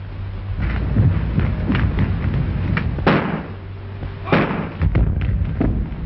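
A thrown bomb goes off in an early 1930s film soundtrack, heard as a series of heavy dull thumps and bangs over a continuous muffled, noisy background, loud and close with little voice.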